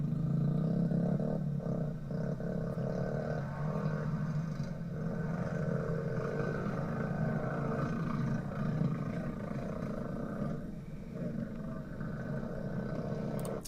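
A moped bike sound effect plays in a Wick Editor animation as a steady, rumbling engine drone that runs unbroken for about fourteen seconds at a fairly quiet level.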